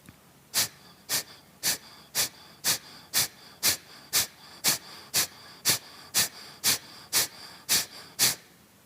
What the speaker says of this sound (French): Et encore 4 respirations.